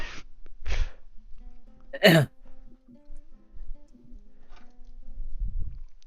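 A single sharp sneeze bursts out close by, followed by quiet shuffling and low background noise.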